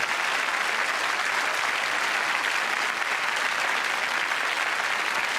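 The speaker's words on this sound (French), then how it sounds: "je vous demande d'applaudir le premier invité de ce soir" Sustained, dense applause from a TV studio audience on a French variety show set, loud and steady throughout with no break or voices on top.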